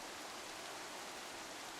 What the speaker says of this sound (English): it's going to get darker, and that rain is going to become heavier